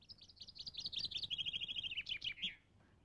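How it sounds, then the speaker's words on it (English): Chaffinch song outdoors, a fast accelerating series of bright chirps running into a descending trill and ending in a short flourish, clear and fairly close over faint background hiss, no voices. "And there's a chaffinch."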